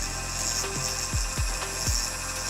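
Dremel rotary tool working on a 1/60 scale model kit: a steady high-pitched motor whine runs throughout, with a few dipping pitch sweeps as the tool slows under load. No voices.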